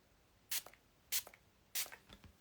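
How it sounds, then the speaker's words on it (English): Three short, soft hisses of a mist spray bottle land on the back of a Pokemon card in quiet surroundings, evenly spaced, each followed by faint light handling sounds. "I'm just going to do a light spray on the back"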